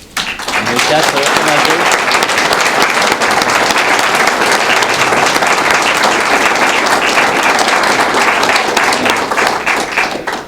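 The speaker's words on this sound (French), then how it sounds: "on pourrait donner une bonne main d'applaudissement à nos quatre managers" Sustained applause from a large crowd at a citizens' ceremony in a city hall, dense and steady throughout, with scattered voices mixed in.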